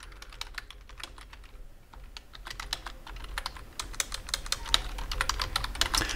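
Commands are typed on a computer keyboard with quick, uneven clusters of close key clicks. The keystrokes pick up toward the end, and no one speaks.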